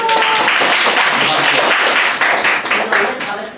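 Middle school students in a classroom applaud a classmate, a loud burst of dense clapping close by that thins out and tapers toward the end.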